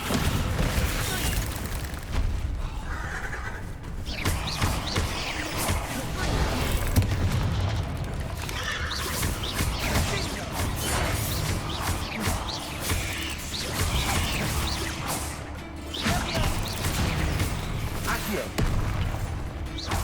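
Heavy spell impacts in Hogwarts Legacy as Descendo slams enemies to the ground, repeated booms and crashes mixed with battle effects, loud and dense, with speech over the top.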